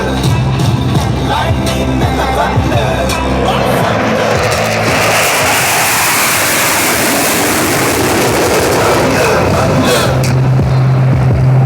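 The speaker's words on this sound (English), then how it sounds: "As they pass over center point, you will hear and feel the thunder of 8 engines" Jet fighters on full afterburner fly past at an air show, a loud, broad roar that swells and rushes through as the eight engines pass overhead, with a steady tone entering near the end.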